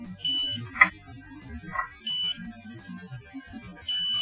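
A panel being pecked by a budgerigar gives out short, steady, high-pitched electronic beeps in sync with the pecks and a flashing light, three of them spaced a second or two apart, among light tapping and clicking sounds.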